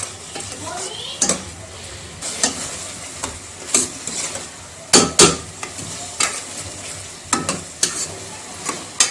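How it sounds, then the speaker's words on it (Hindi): Lentils (mash daal) sizzle steadily in a pan while being stirred, with repeated scraping clatters of the spoon against the metal in a Pakistani home kitchen. "इस तरह दाल को हमने 3 से 4 मिनट भूनना है।"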